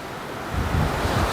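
Strong wind buffets the microphone on a roadside stop near a fast-flowing river on the ride from Alappuzha to Tenkasi, a steady broadband roar that swells louder and rumbles heavily after the first half second, with no voices.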